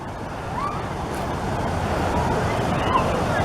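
Water rushing and splashing at a wild swimming spot near the Long Mynd, a steady, fairly loud broadband wash with faint bird chirps above it, no clear talking.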